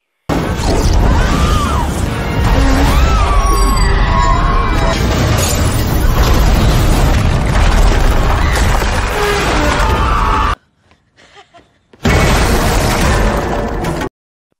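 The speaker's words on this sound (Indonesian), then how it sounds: "Dan alhasil gedung itu pun meledak" A loud, sustained roaring blast as a building explodes from a gas leak, crashing debris filling most of the clip, then a cut to near silence before the rumble returns.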